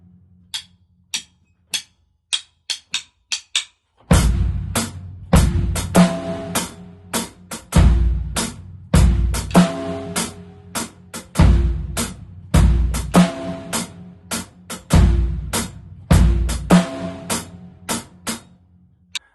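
A drum kit plays a loping swung eighth-note groove: light ticking cymbal strokes at first, then kick on beats 1 and 3 and snare join in with a steady bouncing pulse.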